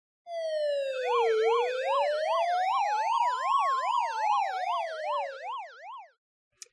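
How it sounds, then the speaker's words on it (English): Sirens blaring downtown as a sound effect for a tabletop role-playing game podcast: a loud, steady wailing siren with a rapid warbling yelp that rises and falls for about six seconds, heard alone and cutting off abruptly. "as the sirens blare in downtown"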